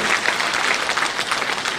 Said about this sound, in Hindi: तालियों की गड़गड़ाहट के साथ आगाज होना चाहिए